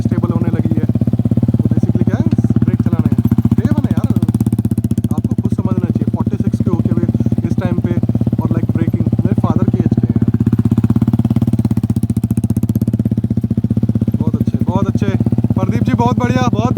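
A motorcycle circling tightly during stunt training at a Delhi bike stunt academy, its engine droning steadily and loudly up close throughout while a voice speaks over it.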